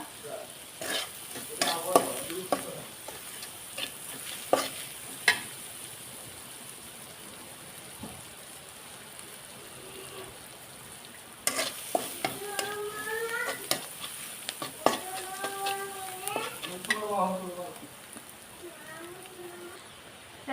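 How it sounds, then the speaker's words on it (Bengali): Chopped onion and bay leaf fry in oil for a village-style egg and potato curry, a continuous sizzle broken by repeated scrapes of stirring, with a voice speaking briefly now and then. "পেঁয়াজটা ভাজা ভাজা হয়ে গেছে"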